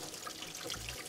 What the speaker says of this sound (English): By undoing this screw at the back, we release the pressure and the excess water out of the line.